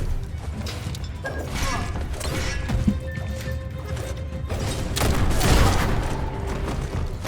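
Gunfire and combat in the video game Biomutant: bursts of shots, crashes and mechanical clanks over a dense, busy game soundscape that swells louder near the end, with no talk.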